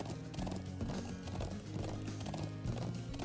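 Rhythmic clip-clop of horse hooves at a steady gallop in the video game Legend of Heroes: Trails of Cold Steel, with an occasional whinny mixed in, fairly close.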